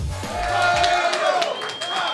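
A wrestling arena crowd at a live event roars and cheers steadily, a broad wash of voices with a commentator talking over it.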